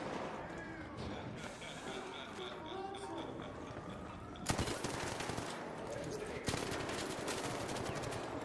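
Enemy gunfire in an R.I.P. video game endgame, bursts of machine-gun-like shots with sharp louder cracks partway through, mixed with busy game noise and a talking voice.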